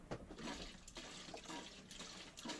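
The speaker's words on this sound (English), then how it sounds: "This is a salt water pump. All the water you want just with your foot." Foot-operated salt water pump aboard a sailboat on a solo passage, gushing and splashing water in steady surges, fairly close and moderately loud with no voices.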